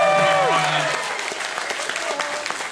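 Audience applause and cheering at a pre-registered public event, loud and sustained throughout as a dense clatter of claps, with a voice briefly heard at the start.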